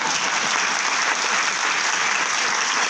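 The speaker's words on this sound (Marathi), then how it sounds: "सगळ्यांकडनं खूप टाळ्या वाजवून घेतल्या" An audience at a book launch event claps together, a dense, even burst of applause that stays loud and steady throughout, with no talking over it.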